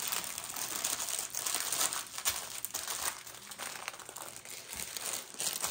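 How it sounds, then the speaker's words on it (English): Packaging paper from a diamond painting kit being folded back up, a steady close crinkling and crumpling that runs the whole time with small bursts of louder rustle. "let me just fold this back up"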